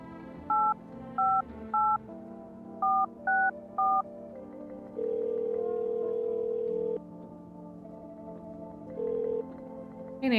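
Telephone dialing in the video game No, I Am Not a Human: six short evenly spaced keypad tones, then a longer ringing tone, a pause and a shorter one, clear and alone.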